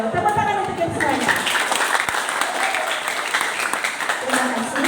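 School students at a traditional Nias music session break into applause, a dense burst of clapping that fills the room and carries steadily from start to finish, with voices mixed in.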